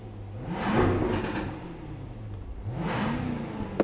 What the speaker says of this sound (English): This amazing Jaguar F-Type, what they call P450, which is a 5-litre V8